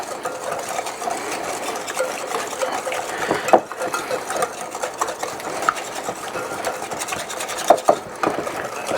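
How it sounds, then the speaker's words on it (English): Sugar and water sauce for Korean barbecue wings being whisked in a bowl, a steady close scraping and swishing rhythm with occasional sharper taps against the bowl, no talking. "Whisk this up."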